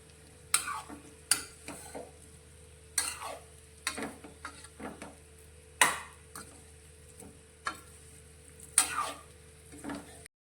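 Bottle gourd muthiya sauté in a pan of tempering, a spatula scraping and stirring in irregular strokes over a faint, steady sizzle, with no voices.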